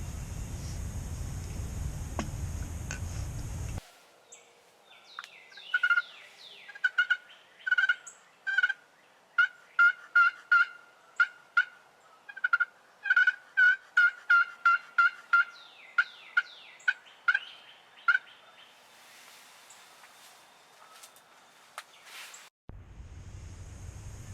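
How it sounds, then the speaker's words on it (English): Wild turkeys gobble repeatedly from about 80 yards away in an Indiana hunting setting, with bursts of rapid, rattling gobbles coming in clusters over a quiet background, fairly distant but clear. "I've got 2 in front of me about 80 yards gobbling."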